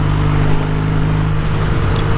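A 1968 Triumph T120 Bonneville motorcycle is ridden at a steady pace, its engine droning loud and close throughout with a continuous low thrum over rushing wind noise.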